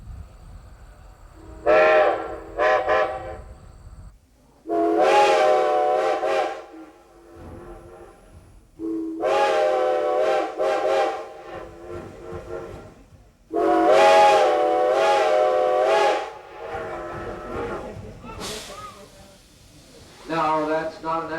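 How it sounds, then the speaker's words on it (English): A steam train whistle blows in several long and short blasts, loud and tonal, separated by pauses of near silence. "The engineer stops the train and sends out a friendly whistle."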